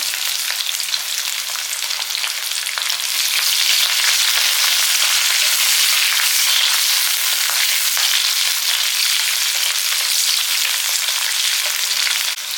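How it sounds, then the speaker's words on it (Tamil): Steady, loud sizzling of green chillies and garlic sautéing in a hot pan, continuous throughout with no talking. "பச்சை மிளகாயும் வெள்ளைப்பூடும் ஓரளவுக்கு நல்லா வதங்கிடுச்சு"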